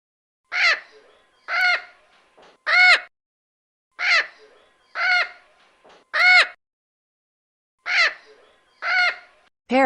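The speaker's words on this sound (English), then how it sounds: "Parrot." A parrot gives loud, harmonic squawking calls in three clear bursts, each made of two or three calls in quick succession, against near silence.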